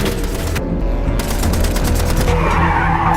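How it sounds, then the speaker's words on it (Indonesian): Rapid gunfire strikes a car from behind in a film action scene, loud bursts mixed with engine roar and tyre skidding, dense and continuous. "Sohyuk ditembaki dari belakang"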